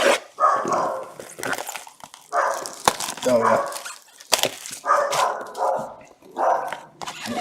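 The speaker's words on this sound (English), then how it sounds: "Dog bark usually means big thing, big card count." A dog barks in short bursts several times, moderately close, during a baseball card case break, with a voice briefly speaking between barks.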